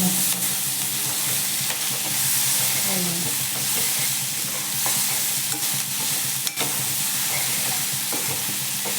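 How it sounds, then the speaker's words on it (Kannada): Onion, garlic and mint frying in a pan for a country-chicken sambar: a steady, close, broadband sizzle with occasional stirring scrapes and clinks, no talking. "ಚೆನ್ನಾಗಿ ಫ್ರೈ ಮಾಡ್ಕೋಬೇಕು ಈರುಳ್ಳಿ ಬೆಳ್ಳುಳ್ಳಿ ಸ್ಮೆಲ್ಲೆಲ್ಲ ಹೋಗಬೇಕು"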